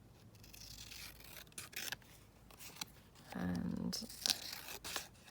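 Scissors cut down a paper journaling card, a few close, quiet snips and rasping paper cuts in short bursts, with a brief spoken word at the start.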